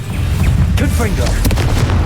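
A blasting spell in a wizarding fantasy game erupts in a deep, loud boom with crackling bursts, close and heavy, while a voice calls out during the short burst of combat.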